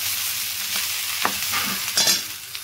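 A mashed potato filling is stirred through spiced ingredients in a frying pan, giving a steady close sizzle broken by a few scraping strokes of the spoon, with no talking.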